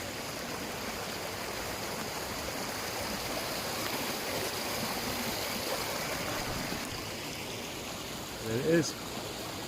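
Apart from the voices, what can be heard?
water gushing out of an old mine adit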